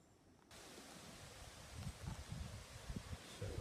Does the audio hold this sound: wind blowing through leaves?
yes